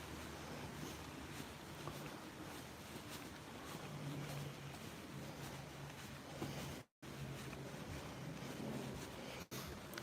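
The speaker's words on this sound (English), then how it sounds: "This is a waterfall" A waterfall somewhere in the hills around Blackburn, heard as a steady, broad rushing roar of falling water with wind buffeting the microphone and a brief dropout partway through.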